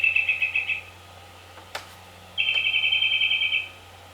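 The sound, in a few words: birds chirping at grandad's birds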